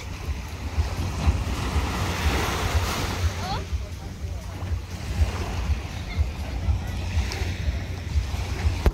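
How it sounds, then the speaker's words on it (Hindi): Surf and wind roll over a white sand beach, a steady wash of waves with gusting wind noise on the microphone, while people talk. "आज हम फाइनली बीच पर आ गए हैं। White sand beach over here,"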